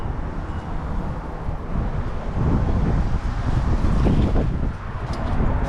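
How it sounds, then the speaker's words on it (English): Steady, roaring wind buffets the microphone, swelling louder midway and rumbling low throughout with no voices. "it's really windy out"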